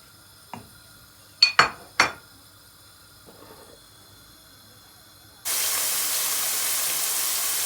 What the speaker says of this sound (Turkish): Çok az bir soteleyeceğim etimizi.